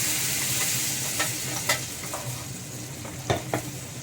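A creamy paste of ground milk fries in a pan over a slow to medium flame, with a soft, steady sizzle and a few sharp scraping clicks of stirring.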